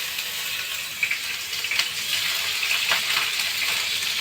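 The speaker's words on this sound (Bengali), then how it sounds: "পনিরগুলো হালকা করে ভেজে নিই।" Paneer pieces frying lightly in hot oil, giving a steady, soft hiss with a few faint clicks and pops, close and unbroken.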